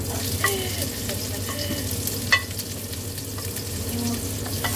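Garlic and ginger frying in a pan for a fish dish, a steady close sizzle with occasional clinks and stirring scrapes, no talking.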